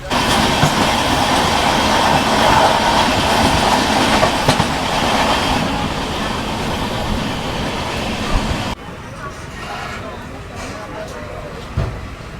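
Amrit Bharat Express on the Patna–New Delhi run, just out of Patna, gives a loud, steady rumble of wheels and carriage noise that drops to a quieter interior hum near the end, with a brief knock late on.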